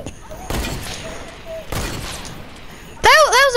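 Sniper rifle gunfire in Fortnite, two sharp reports with a short echoing tail, followed by a bright chiming hit marker from a headshot, no talking.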